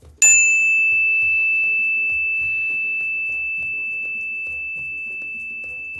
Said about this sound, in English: This is the clearing bell.